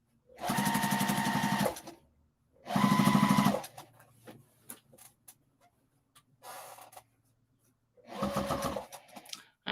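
Home sewing machine stitching binding onto a quilt, running in three loud bursts of fast whirring with clicking and a steady hum, separated by quiet pauses with faint handling sounds and thread clipping.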